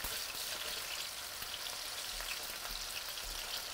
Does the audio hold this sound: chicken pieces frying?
yes